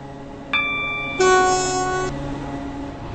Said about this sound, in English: This train is now approaching Benton.